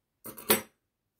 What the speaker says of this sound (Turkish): ipimi burada kesiyorum